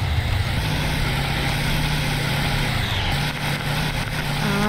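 Idling motorcycle or moped engine in the Roblox Multicrew Tank Combat game, a steady low engine drone running throughout at even loudness, with faint mechanical clatter joining near the end.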